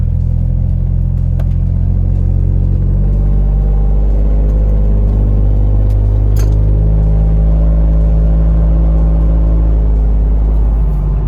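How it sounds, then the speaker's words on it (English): Engine of a fourth-generation Toyota 4Runner on a highway, a loud steady low rumble that climbs in pitch as it revs up toward overdrive, heard from inside the cabin with no talking. "I'll see if I can get on it a little bit and get into overdrive so you can really hear it kind of rev up"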